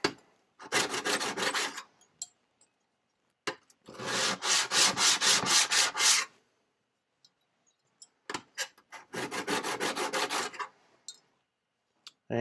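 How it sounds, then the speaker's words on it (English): Sandpaper rubbed by hand against a vintage hand plane blade to remove burrs, heard as three close, dry bursts of rapid back-and-forth scraping strokes separated by quiet pauses and a few faint clicks. "I'm going to go ahead and strip the burrs best as I can."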